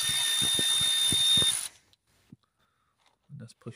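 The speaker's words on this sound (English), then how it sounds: "Now we have 8mm bolts. Let's try and get on there. Remove those out." A ratchet working 8mm bolts on the alternator of a Ford Focus C-Max 1.6 TDCi, rapid clicking bursts close up for about a second and a half, then near silence with a few faint knocks and a brief voice.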